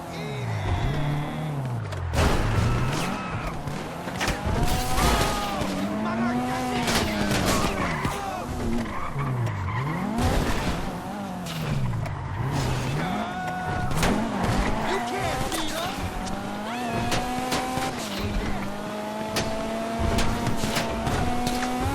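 A car in a GTA V heist races with a whining engine that repeatedly rises and falls as the gears shift, tires squealing and skidding in places, with voices talking over the driving.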